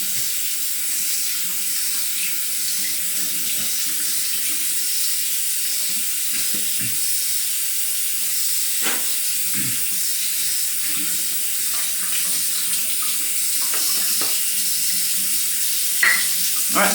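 Tap water runs steadily into a sink to wet a synthetic shaving brush, a continuous close hiss and splash with a few small clinks and knocks of handling, no talking.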